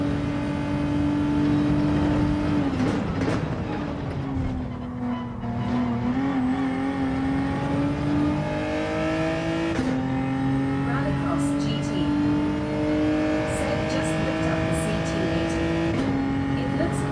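A Mercedes-AMG C-Class V8 drones at a steady, loud pitch in Gran Turismo 7, with noticeable dips and rises as it shifts gears on track.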